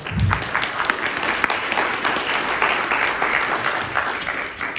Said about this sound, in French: On peut les applaudir parce que ce sont nos premiers intervenants.